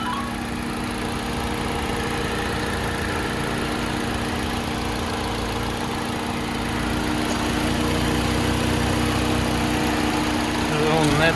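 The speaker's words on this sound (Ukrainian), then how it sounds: "Робота двигуна." A 1.8-litre Opel Astra idles steadily up close, a constant even engine drone with faint rattling texture, rising a little toward the end.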